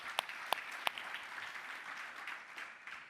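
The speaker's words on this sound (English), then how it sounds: "So please give him a round of applause." Audience applause at a panel talk on masculinity and vulnerability: three sharp, close claps ring out first, then a fainter, steady round of crowd clapping follows.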